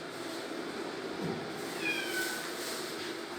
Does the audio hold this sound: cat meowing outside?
yes